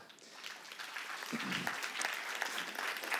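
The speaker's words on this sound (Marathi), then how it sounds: "आता जेवढ्या टाळ्या पडल्यात ना" A live audience applauds steadily at a talk-show interview with an Ironman triathlete, broadband clapping swelling slightly midway and holding dense and close throughout, with no one speaking over it.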